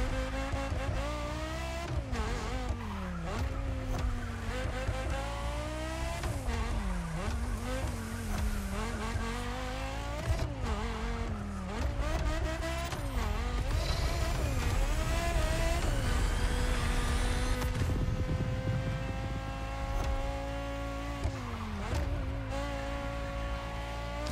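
KTM X-Bow R engine in the racing game The Crew Motorfest, a loud continuous roar rising and falling through gear changes and revs, with tire squeal and skidding mixed in, no talk.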